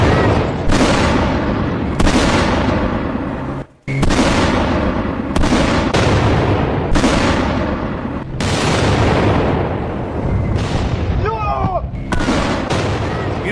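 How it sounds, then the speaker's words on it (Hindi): Repeated heavy booms and blasts from missile strikes hitting buildings across several locations at once, loud and dense with rumbling bursts following one another over the whole stretch, with no talk. "अब ये मिसाइलें धमाका कर रही थी, इमारतों पर गिर रही थी"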